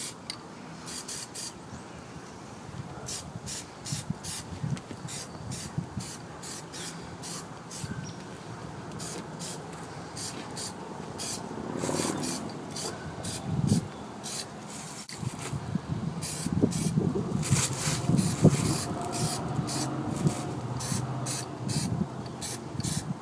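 An aerosol can sprays a second, heavier coat of Plasti Dip rubber coating onto a car. Close, steady hissing comes in repeated bursts of varying length, and some handling noise is audible between passes.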